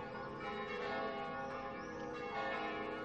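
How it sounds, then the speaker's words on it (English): Church bells ringing out at the start of a church service in Britten's opera Death in Venice: a dense, continuous wash of overlapping bell tones with long ringing overtones, steady and full throughout, with no voices. "the bells sound at the beginning of the church service"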